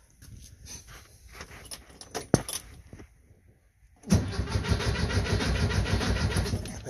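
A car's key turns with soft clicks and jingling, a brief quiet pause follows, then the engine cranks and catches into a steady, loud idle near the end.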